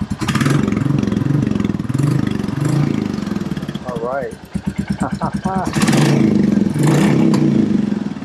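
Royal Enfield Classic 350 single-cylinder motorcycle fitted with a cat-delete exhaust, idling with a steady thump, then revving up in several short blips before settling back to a loud, even idle, with someone speaking briefly over it.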